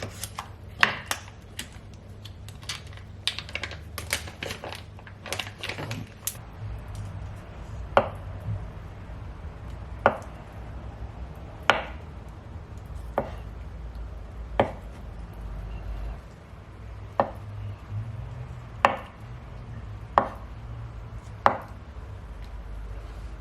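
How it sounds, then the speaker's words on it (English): A knife chops drained tofu into slices on a cutting board, making crisp, evenly spaced taps. After a quick burst of cuts at the start, the taps settle into a steady rhythm about every second and a half, close and clear, with no talk. "we're just going to cut them into slices"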